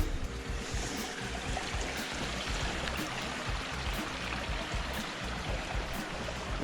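Water rushes steadily along a creek or old gold-mining water race near Queenstown, a constant broadband wash that stays even and fairly loud from start to finish with no voices.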